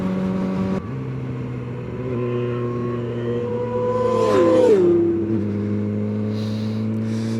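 Yamaha R6 motorcycle ridden along a road, its engine a steady, fairly close drone that briefly dips and rises in pitch midway before settling back to an even cruise, with no talking.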